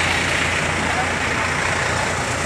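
A running bus engine, a continuous rumbling drone heard close and steady throughout, with voices murmuring faintly in the background.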